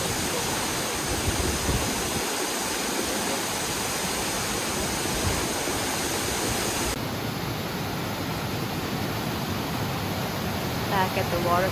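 Steady broadband rush of a waterfall on Kauai, Hawaii, loud and close, continuous throughout with a slight shift in tone partway; faint chirps near the end.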